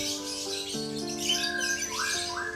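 Lovebirds from a large breeding flock chirp and squawk continuously at close range, with overlapping bright calls and rising whistled notes layered over a busy aviary chorus.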